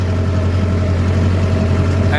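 A tractor engine pulling a laser land leveler runs at a steady idle, a close, constant low droning hum with an even throb and no change in pace.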